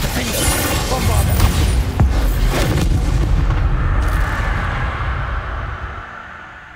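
A Bombarda explosion spell in Hogwarts Legacy bursts with a heavy, close boom, followed by a rumbling blast that slowly fades out over several seconds.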